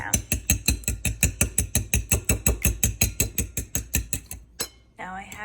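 Fork rapidly clinking against a bowl while whisking eggs and milk, a fast steady rhythm of close tapping strokes for several seconds, then stopping.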